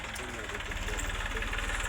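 A tractor engine chugs with a steady low knocking rhythm as it comes closer, fairly quiet and constant throughout.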